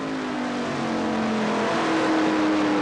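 NASCAR race cars roar around a track during the Westend 100 race of the 1996/97 season, a steady loud engine drone with rising and falling pitch, continuous and close, with no talk.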